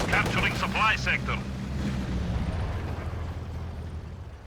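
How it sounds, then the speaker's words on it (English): Machine gun and artillery fire in a Company of Heroes 2 match, with a rapid burst of shots at the start followed by a continuous rumbling battle din under a voice. "There's a machine gun in the building just locking down the side."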